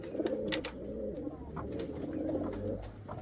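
Blue bar pigeons coo in a loft, soft throaty calls repeating close by with a few faint chirps and rustles in the background.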